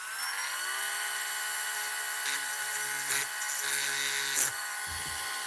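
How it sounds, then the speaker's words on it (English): A small high-pitched drill whines steadily as it bores a hole through the center of a wooden peg, a continuous near buzz with slight load changes and brief bumps as the bit bites. "we've got to drill a hole through the center of this peg right here"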